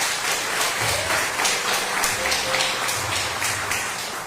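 Church congregation applauding during a worship service, a sustained dense clapping that fills the space, with low murmuring voices underneath.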